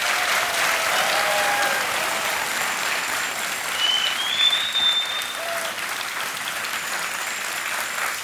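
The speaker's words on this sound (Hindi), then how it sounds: "तालियां बजनी चाहिए जोर से" Sustained applause from a studio audience on a televised quiz show, a dense steady wash of clapping that holds loud throughout with a slight swell midway, no talk over it.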